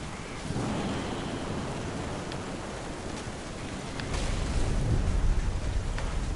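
Rain and low rolling thunder in the video game What Remains of Edith Finch, a steady wash of storm noise that swells louder and deeper toward the end, with no talking.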